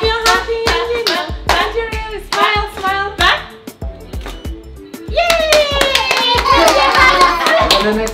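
Children clap their hands in time to a sung "If You're Happy" tune during a family photoshoot, crisp sharp claps in a bouncing rhythm with the singing voices, close and loud, leading into a fuller burst of singing.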